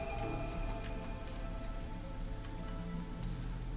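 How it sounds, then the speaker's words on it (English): Steady drizzling rain falls in the fantasy city-building game Against the Storm, a continuous soft patter with faint tones of ambient music beneath, and no talking. "we're in the drizzle"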